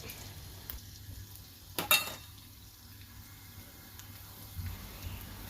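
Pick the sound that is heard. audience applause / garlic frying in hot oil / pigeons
garlic frying in hot oil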